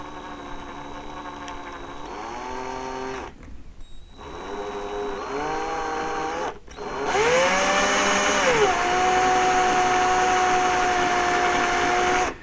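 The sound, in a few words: small drill bit drilling holes in Lego piece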